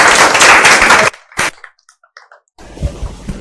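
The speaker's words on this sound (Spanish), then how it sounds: "Un fuerte aplauso para ella, por favor." Conference audience applause, a loud burst of mixed clapping that cuts off abruptly, a few scattered claps and taps in the quiet, then renewed softer clapping near the end.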